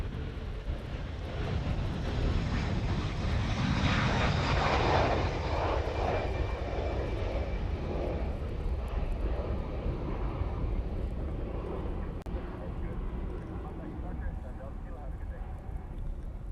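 A Lockheed Martin F-22 fighter jet roars overhead during an overhead break at Honolulu airport, a loud, sustained broadband engine rush that swells around the middle and slowly fades, with voices faintly beneath.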